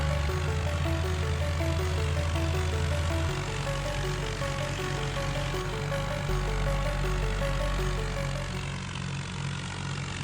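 A Swaraj tractor in a video game strains while stuck in mud, its engine droning loud and steady as the tires spin. The low roar shifts pitch in a few steps, and faint tonal music sits on top.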